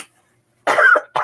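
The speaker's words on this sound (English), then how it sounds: "get a tissue because I've got a cough." A person coughs twice, the first a harsh, loud burst lasting under half a second and the second a short follow-up, heard close and alone.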